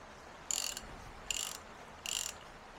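A ratchet wrench cranks off a part on a widebeam boat's engine during a service, three short, crisp clicking bursts evenly spaced over a quiet background.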